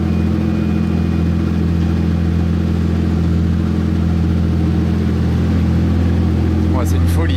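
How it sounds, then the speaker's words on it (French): A Pagani Imola Roadster hypercar idles loudly close by during Monaco Grand Prix weekend, its deep steady engine drone running throughout with a brief higher sound near the end. "Vous voyez, c'est une Imola Roadster."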